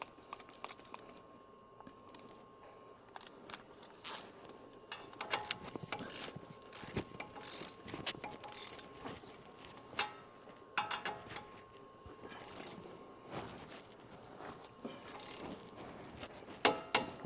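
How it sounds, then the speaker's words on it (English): Sharp mechanical clicks from a torque wrench set to 110 foot-pounds while tightening a nut on the steering of a RAM with a sticking electric steering fault. Scattered close ticks and clicks come over a low shop background, with no talk. "I hope you heard the torque wrench click."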